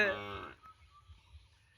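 A young calf lets out a single short, fairly close moo, followed by quiet low rustling and shuffling.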